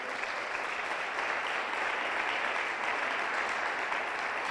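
Applause from a congregation during an online church gathering, a soft, even wash of clapping that holds steady throughout, fairly distant and quiet with no voices over it.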